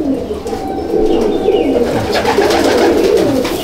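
Madrasi pigeons in a breeding loft give soft, continuous throaty coos, close and layered, with faint background rustle and no talk.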